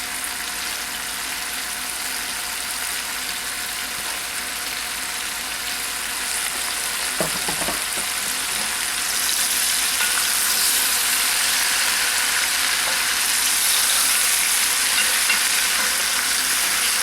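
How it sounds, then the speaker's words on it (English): Flour-coated beef stew meat sizzles steadily in a hot pot while being stirred to brown, a continuous frying hiss with a brief scrape near the middle and the sizzle growing slightly louder later. "Just keep stirring it around and get them all brown"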